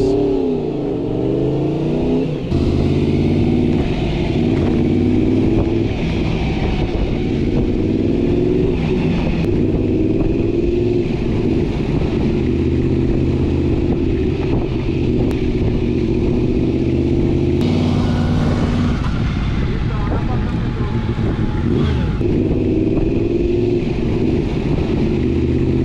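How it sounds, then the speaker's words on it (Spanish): A loud 1988 Honda VFR 750 F motorcycle's water-cooled 16-valve V4 engine runs continuously, rising and falling as it revs and accelerates, close and steady throughout with no voices. "sacando al mercado su motor V4 refrigerado por agua con 16 válvulas"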